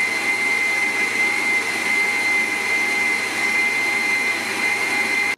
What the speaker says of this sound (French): On va tester l'accessoire pour émincer.